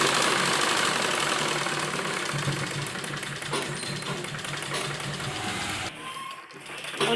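A sewing machine stitching a fabric sleeve runs in a continuous fast mechanical whir, loud and close, then slows and pauses briefly near the end before starting up again.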